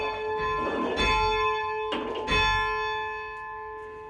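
A swinging church bell at St Ann's Church, South Tottenham, rings loud and close with long, resonant strikes that overlap and slowly fade.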